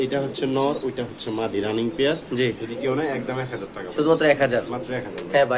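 Pigeons coo in a loft of pet birds for sale, soft repeated calls running beneath close, continuous conversation.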